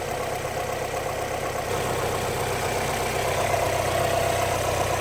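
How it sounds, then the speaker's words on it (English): Car engine idling smoothly with no misfire, a steady, even low rumble heard close and uninterrupted throughout. "There's no misfire in this car, which you can hear."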